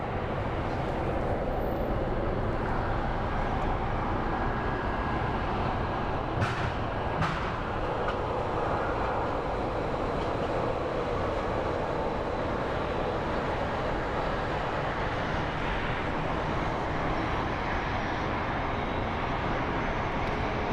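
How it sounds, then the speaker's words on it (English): A Southwest airliner departs runway 25 right at Phoenix Sky Harbor International Airport, its engines making a loud, steady, broadband jet roar that holds constant throughout, heard from the ground. "our next plane on 25 right is going to be another Southwest that is going to be departing for Palm Springs"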